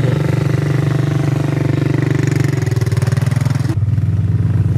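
Strong quad ATV engine revving loudly and continuously with a rough, throbbing pulse, held steady close by before cutting off abruptly near the end.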